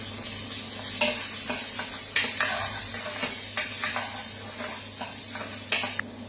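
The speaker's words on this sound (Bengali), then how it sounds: "সুন্দর তেলটা গরম হয়ে গেছে এখন আমি এর মধ্যে ঢেলে দিচ্ছি প্রথমে গার্লিক চিলি এবং পেঁয়াজ" Garlic, chili and onion dropped into hot oil for a chicken stir fry, a loud steady sizzle close by with scattered scraping and stirring knocks throughout.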